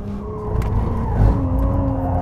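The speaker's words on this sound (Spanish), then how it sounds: "Has hecho una culeada bastante importante" Tires squeal as a Ferrari 296 GTB slides on a race circuit in second gear, a steady high screech over a low engine rumble, close and fairly loud.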